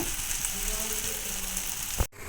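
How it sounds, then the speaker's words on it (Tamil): Bitter gourd slices fry in a pan with a steady, close sizzle that runs unbroken, cut off by a short clunk near the end. "பாவக்காய் நல்லா வெந்துட்டுருக்கு."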